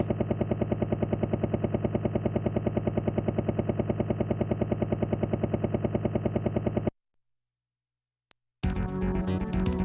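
A helicopter in the SNES game Final Fight 3 makes a steady, rapid mechanical chopping drone for several seconds, then cuts to silence before a burst of game music and effects.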